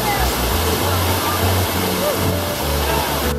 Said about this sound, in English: That's the waterfall we're going to climb up.